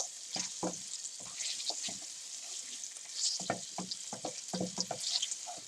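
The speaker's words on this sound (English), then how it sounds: "Stir this until the onions are nice and golden." Onions fry and get stirred in a pan, a soft background sizzle broken by repeated scraping and clattering strokes of a utensil in uneven bursts, close by and fairly quiet, with no voices.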